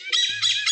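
A voice imitates a male hornbill's call with a short, harsh, squawking cry that holds steady for under a second, close and loud.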